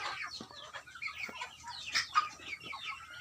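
Chickens and baby ducklings crowded together in a small coop give off a busy mix of soft clucks and high peeping chirps, close and continuous at moderate volume.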